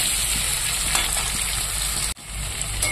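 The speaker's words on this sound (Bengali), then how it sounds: "ভেজে নেবো আলু পটলটাকে" Potatoes and pointed gourd frying in a pan, a loud, close, continuous sizzle with a brief dip near the end before the crackle resumes.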